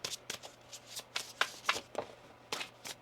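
Tarot cards being shuffled by hand, close up, in a quick series of riffling and slapping bursts with short gaps between them, and nobody talking.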